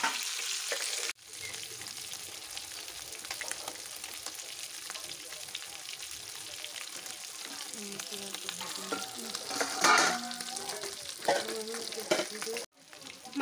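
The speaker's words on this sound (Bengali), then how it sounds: "এই পিঠটাও ভাজা করে নেব" Flipped rohu fish pieces fry in a pan of hot oil, giving a continuous close sizzle with occasional spatters and a brief scrape of stirring toward the end.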